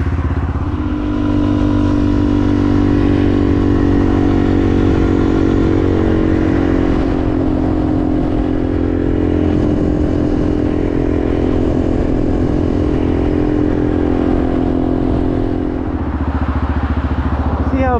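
A motorcycle cruises along a busy long-weekend highway toward Sasquatch Mountain, its engine a loud, steady, close droning hum with strong harmonics and rushing wind, running unbroken for the whole stretch with only slight shifts in pitch near the end.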